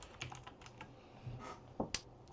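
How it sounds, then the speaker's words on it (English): Keys tapping on a computer keyboard during an online poker final table, quick irregular clicks with a few sharper strokes, close but soft. "Sorry about the typing, fellas."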